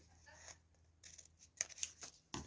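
Scissors trim sturdy paper for a handmade page-flip craft page, with a few close snips and blade rasps, quiet at first, then louder cuts in quick succession.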